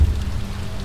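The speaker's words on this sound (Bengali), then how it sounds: "শুধু এক নাগাড়ে বৃষ্টির শব্দ।" Steady rain falling on a road at night, a soft continuous patter with a low rumble underneath, unbroken through the brief moment.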